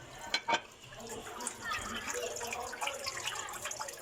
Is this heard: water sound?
yes